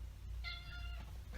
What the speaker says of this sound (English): Edit this out too. That's my cat.